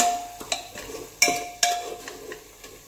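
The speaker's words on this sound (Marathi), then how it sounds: "अगदी 1 ते 2 मिनिटं फक्त मिक्स करत पहा" Spices stirred in hot oil in a pan for chicken curry: a spoon scrapes and taps the pan in irregular knocks, with a faint sizzle beneath, close by and with no speech.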